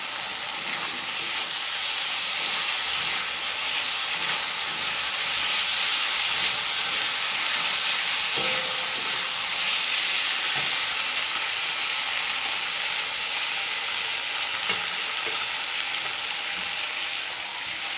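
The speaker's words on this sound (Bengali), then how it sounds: "এখন এর মধ্যে দিয়ে দেব খালি করে কেটে রাখা টমেটোটি" Chopped tomato goes into a fried spice masala in a pan for a Bengali kholshe fish curry, giving a steady, dense frying hiss that stays even and close throughout, with only faint stirring touches and no talking.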